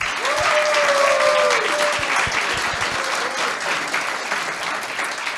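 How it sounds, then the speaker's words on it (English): Audience applause at a university foreign policy panel, steady broadband clapping from a crowd that swells early and holds for several seconds, with a brief whistle-like tone near the start. "Let us applaud Dr."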